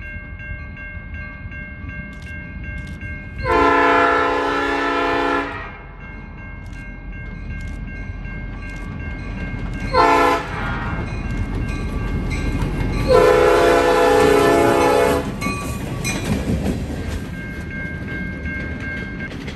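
A Norfolk Southern freight train led by an SD40-2 locomotive heading south at Tadmor Yard in Nazareth, Pennsylvania, sounds its horn in three loud blasts: one long, one short, one long. A low rumble continues underneath, with no talking.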